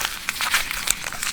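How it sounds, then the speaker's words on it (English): A single sheet of paper is crumpled in the hands, giving a short burst of dry crackling and crinkling up close, heard alone with no talk. "Yeah, I just crumbled one piece of paper."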